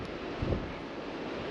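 Strong wind buffeting an FPV drone in flight, a rough, continuous rumbling rush with a brief louder gust.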